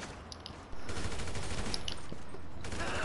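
Video game gunfire comes in as a dense, continuous burst of rapid shots that starts abruptly and keeps going loud, with faint distant pops before it.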